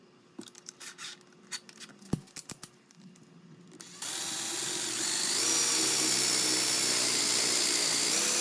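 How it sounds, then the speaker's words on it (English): A small power drill bores holes into a handmade wooden crankbait fishing lure. It starts after a few seconds of scattered clicks and handling taps, then runs as a steady, loud whine to the end. "So now that I drilled those two out,"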